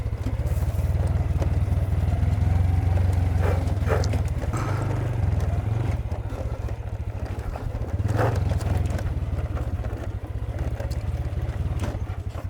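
A motorcycle engine runs steadily on a mountain road in Benguet, a continuous low throbbing drone heard close, with intermittent clattering.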